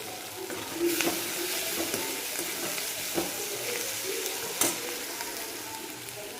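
Onion and tomato softening in a pan with turmeric and salt give a soft, continuous sizzle, with occasional stirring scrapes and clinks close by and no speech.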